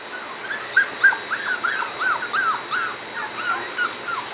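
Corgi puppies whimper and yip in a rapid string of high, wavering squeals and whines, several overlapping close by, with no talking over them.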